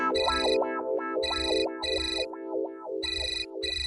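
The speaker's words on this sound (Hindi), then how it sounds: "पलेथानी का फोन है" A phone ringtone plays alone, a looping electronic melody in short repeating bursts, loud and close.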